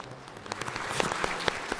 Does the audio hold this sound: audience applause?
yes